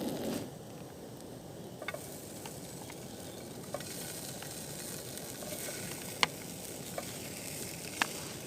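Sausages sizzle steadily in a pan at a Halloween wild campsite near Lidwell Chapel, a continuous close crackling hiss broken by a few sharp pops and spits.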